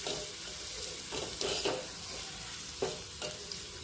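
A spoon scrapes and mixes dried bombil curry masala in a pan, a soft steady sizzle with a few louder stirring scrapes at irregular intervals, fairly quiet and close, with no voices.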